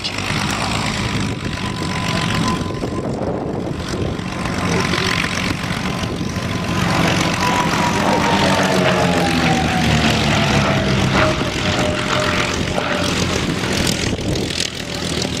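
A vintage de Havilland propeller airplane flying at an air race at the Old Warden flying festival, a loud continuous engine drone with a falling pitch as it passes nearby.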